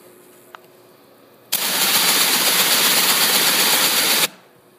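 A Driploc Stinger cleaning head spins up with a sudden loud, broadband hissing whir. It holds steady for almost three seconds, then cuts off abruptly into quiet.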